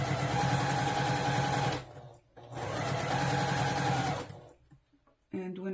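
A sewing machine runs in two long, steady bursts while stitching a fly front zipper on garment fabric, pausing briefly between runs and stopping near the end before a quiet voice begins.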